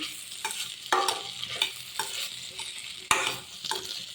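Potato and capsicum with coconut stir-frying in a pan for a Kerala-style dry fry. Quick, irregular scraping strokes of a spatula ride over a soft continuous sizzle, up close with no talking.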